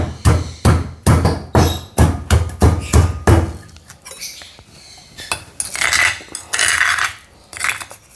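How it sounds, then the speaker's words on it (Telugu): Green chillies, garlic and cumin are pounded in a mortar with a string of loud, close, rhythmic thuds, followed by looser scraping and grinding. "ఇప్పుడు పచ్చిమిరపకాయలు, వెల్లుల్లిపాయలు, జీలకర్ర కొంచెం మెత్తగా నలగాలన్నమాట."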